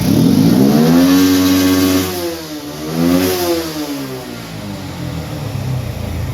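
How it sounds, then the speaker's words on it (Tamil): A car engine that had been misfiring and running rich gets revved after a mechanic adjusts its fuel setting, a loud, close rev climbing twice and then settling back to an even idle, with no talking. "இப்போ அவர் செட்டிங் பண்ணிவிட்டு ஆக்சிலேட்டர் கொடுக்காரு, அது வண்டி ஃபுல் ஃபயரிங்காக இருக்குது"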